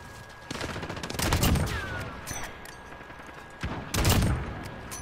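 Gunfire in a Call of Duty match: two bursts of loud shots roughly three seconds apart, the first a longer rattling volley, set against ongoing game background noise.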